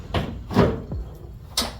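Rear door being lifted off its hangers on a Chevrolet S10 pickup, a few close metallic clunks and scrapes spaced out over two seconds, with no talking.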